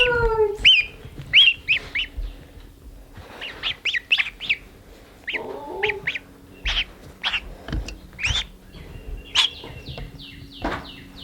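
Young geese, one headed to live with meat chickens and the other with turkeys, chirp in a run of short, bright peeps spread across the clip, fairly close, with soft background noise between calls.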